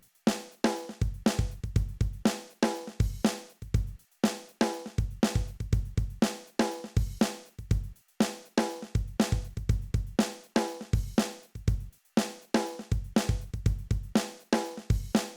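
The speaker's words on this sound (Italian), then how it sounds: "Altra chicca per chi suona così o anche solo per studiare è la presenza della drum machine." A drum machine built into a Zoom G6 guitar multi-effects pedal plays a steady programmed beat, with punchy kicks and snare hits repeating in regular bars, clear and alone.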